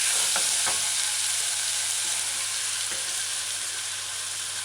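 Chicken stir-fried in a pan with a wooden spoon or spatula, a steady close hiss of sizzling oil with a low hum underneath and a few faint scraping stirs.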